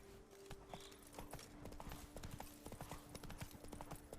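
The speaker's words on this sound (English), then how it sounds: "Still right on Roach, even though I'm overburdened. Giddy up." A horse gallops in The Witcher 3: Blood and Wine, producing quick, rhythmic hoof clip-clops at moderate distance, with faint game ambience underneath.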